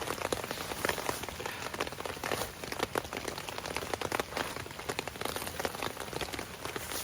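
Steady rain drums on a tent roof pitched a little too flat on a hiking trip, a dense, even patter of drops close overhead with no voices.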